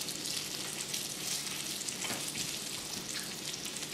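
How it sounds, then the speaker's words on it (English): Morel mushrooms fry in bacon grease with a steady, close sizzle and crackle, faint and continuous, with no talking. "it's morel mushrooms fried in bacon grease with caviars on top"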